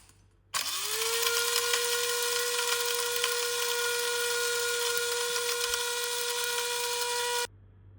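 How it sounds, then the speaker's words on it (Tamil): A mixer grinder starts abruptly, whirs at a loud steady pitch for several seconds while grinding spices to a fine powder, then stops suddenly. "மிக்ஸி ஜாருக்கு ட்ரான்ஸ்ஃபர் பண்ணி நல்லா ஃபைன் பவுடராக அரைச்சிக்கலாம்"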